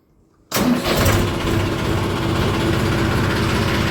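A Massey Ferguson tractor engine cranks and catches after a short quiet moment, then settles straight into a steady, loud diesel idle close by.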